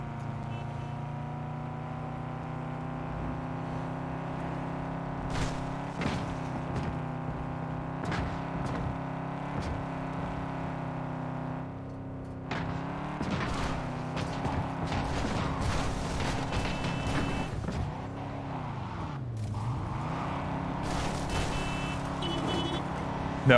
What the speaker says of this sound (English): after driving the Porsche around for so long, we've managed to somehow master the art of driving